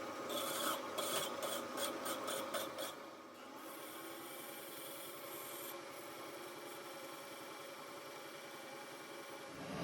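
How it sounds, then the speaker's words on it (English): Steady grinding and rubbing of a metal engine governor part against a turning lathe, with a rhythmic rasping pulse at first that settles into a continuous whir. "Now I'm going to put this back in the lathe and smooth that up"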